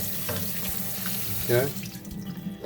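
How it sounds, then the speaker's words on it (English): Two cups of blueberries are rolled around in a bowl of rinse water, giving soft sloshing and swishing with a short splashy surge midway, close by, and a voice speaks briefly. "You just roll them around in this rinse, in this water."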